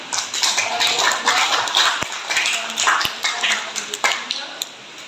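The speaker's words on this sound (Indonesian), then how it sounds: "Kita berikan tepuk tangan." A classroom of students applauds a presenting group, a dense patter of many hands clapping at once with a few sharper taps standing out, voices mingling in.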